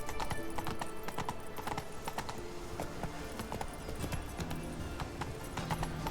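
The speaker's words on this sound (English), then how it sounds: "I don't think you should ride a horse up these stairs," Horse hooves clop up stone stairs in the video game The Witcher 3, with a steady run of sharp, close hoof strikes over game ambience and occasional faint horse sounds.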